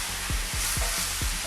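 Chili pepper fries in a wok with a continuous hiss and sizzle, plus four regular, dull scraping strokes as the pan is stirred.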